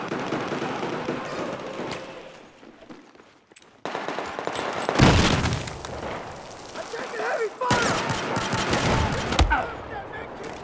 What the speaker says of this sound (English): I would say that is one automatic weapon pistol.